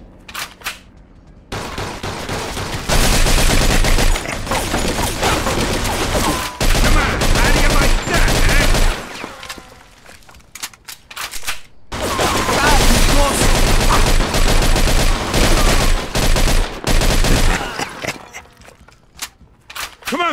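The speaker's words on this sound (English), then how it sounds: "They're shooting from up top!" Heavy gunfire from the Mafia II video game, loud sustained fusillades and automatic bursts in two long barrages separated by a brief lull, with shouted voices in the mix.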